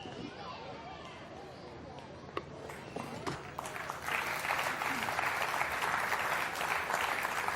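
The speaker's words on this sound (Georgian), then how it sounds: "აბა აპლოდისმენტები" Audience at a comedy show breaking into loud, sustained applause that swells from scattered claps into a full, dense wash of clapping, with voices in the crowd.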